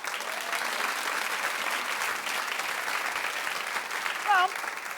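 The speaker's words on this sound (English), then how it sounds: "Clap if you would." A studio audience at a daytime talk show claps in a sustained, dense wash of applause, fairly even throughout, with a brief whoop or cheer near the end.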